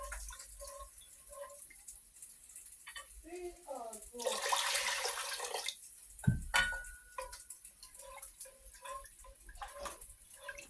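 Water is poured into a pot of homemade gravy, a sustained splashing gush in the middle of the stretch, framed by a person talking and some clinks of kitchenware.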